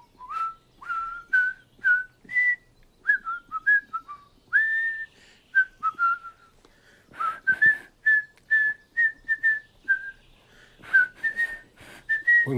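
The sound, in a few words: attempted whistling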